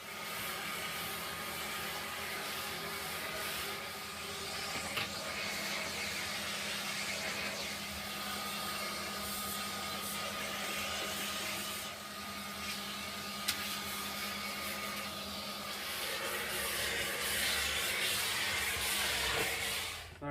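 A Hotpoint Power 3 Multicyclonic vacuum cleaner runs continuously with a steady, close, loud whooshing motor roar and hiss, its tone shifting slightly toward the end.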